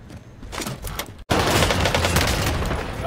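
Dense gunfire bursts from a Call of Duty: Warzone Rebirth Payload match, rapid overlapping shots and booms filling the mix, with a brief silent gap before an even louder, sustained barrage.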